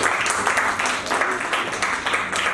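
Audience at a live theatre show in Lucknow claps steadily, a dense wash of many hands with faint voices mixed in.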